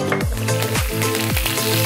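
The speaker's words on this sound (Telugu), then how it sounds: "ఇప్పుడు ఇందులోనే కరివేపాకు కూడా వేగింది చూడండి" Curry leaves crackle and sizzle in hot oil in a pan, a loud, steady frying hiss with repeated bursts of spitting and popping throughout, close up and without voices.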